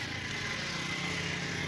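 A diesel engine runs in a village setting with a steady, continuous rumbling drone, close and constant throughout with no talking.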